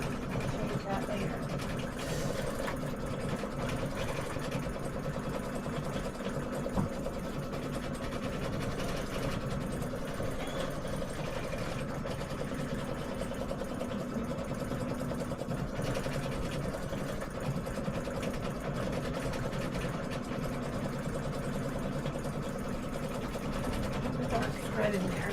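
An embroidery machine stitching a tea towel, a fast, even mechanical chatter running steadily throughout at close range, with a voice speaking quietly at times underneath.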